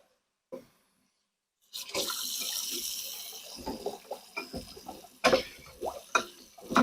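Hot water runs into a sink with soap to soak MicroKorg keyboard parts, a steady rushing stream followed by irregular splashes and clunks of handling nearby.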